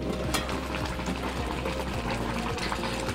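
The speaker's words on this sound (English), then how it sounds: "our drink has been boiling on high heat for the past 30 minutes" Steady, loud rolling bubbling of zobo hibiscus drink boiling hard on high heat in a pot, continuous throughout with no pauses.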